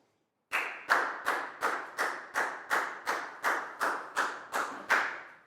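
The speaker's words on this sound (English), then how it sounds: "High five and a big round of applause for Down, please, guys." A steady run of about a dozen loud, evenly spaced claps from a class of schoolchildren, close and rhythmic, with no talk.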